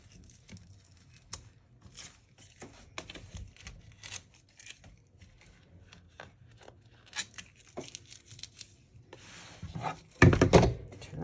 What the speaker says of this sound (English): I'm gonna reach in here and I'm gonna try to remove all my tape where I can find it anyway